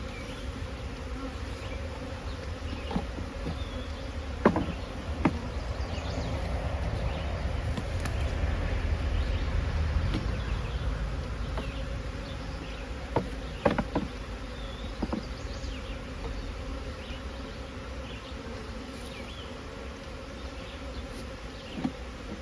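Honey bees swarm around a hive while nucs are set up for honey. Their steady, faint buzzing drones throughout, broken by occasional small taps and nearby passes.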